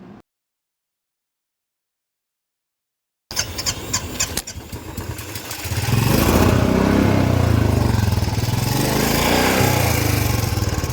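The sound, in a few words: motorcycle engine starting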